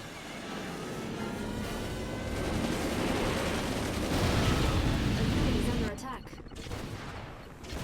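Units in the Command & Conquer real-time strategy game open fire, producing dense, continuous bursts of gunfire at steady loudness, with a brief lull near the end.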